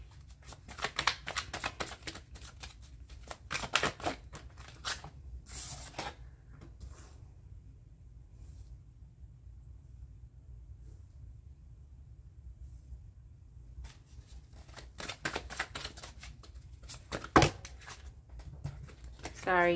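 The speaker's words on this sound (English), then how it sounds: "Let me shuffle properly and get one card." Tarot cards being shuffled by hand in a quiet room: bursts of soft riffling and slapping near the start and end, separated by a hushed stretch, with faint speech-like sounds in between.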